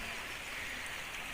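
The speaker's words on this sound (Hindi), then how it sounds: "ऊपर आए तो बारिश हो रही है" Steady rain falls on a rooftop terrace, a dense, even hiss with no breaks, close and fairly soft, no voices.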